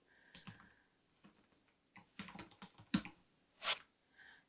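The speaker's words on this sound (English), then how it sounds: "You can type in anything." Sparse keystrokes on a computer keyboard, typing text into a collaborative notepad, arriving in short irregular bursts of clicks with gaps between them, close and fairly quiet.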